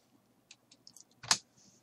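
Computer keyboard keys click lightly and sparsely in a quiet room, followed by one sharper, louder press of the Enter key and a soft tap after it.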